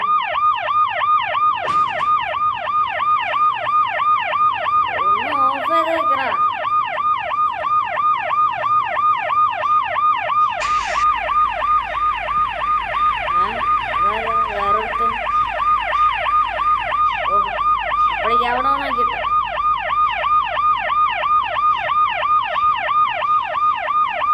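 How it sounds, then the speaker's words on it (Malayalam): A loud electronic siren in the video game Rope Hero wails in a rapid, steady up-and-down cycle that repeats without pause from start to finish. "ഇതാണ് എൻ്റെ സൈറൻ"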